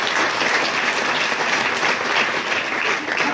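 Schoolgirls entering tenth grade applaud together in a steady, loud burst of clapping that fills the room, dense and continuous throughout.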